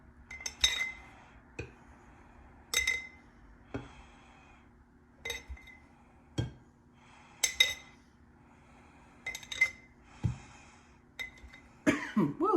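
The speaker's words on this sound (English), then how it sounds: "I'm gonna drop my eggs in there" Eleven eggs dropped one at a time into hot pickling liquid in a pot, producing sharp, separate clinks and knocks spaced a second or two apart, soft and close, with no voices.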